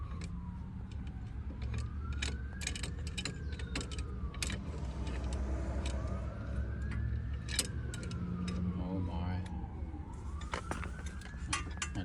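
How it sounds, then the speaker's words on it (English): Emergency vehicle sirens wail steadily in the distance, rising and falling in long sweeps beneath continuous background noise and scattered sharp clicks and knocks. "They're howling because of the sirens."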